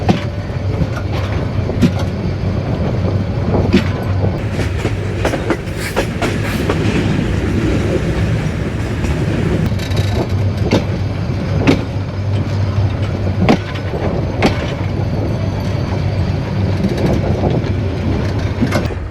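A Burimari Express train rolls along, heard from on board, with a steady loud rumble and repeated sharp clickety-clack wheel beats over the rail joints, and no speech.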